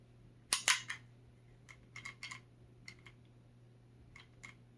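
Dry-fire trigger pulls on an HK USP polymer pistol: a sharp pair of close mechanical snaps at the start, followed by fainter scattered clicks of the action being reset, in a quiet room with no talk.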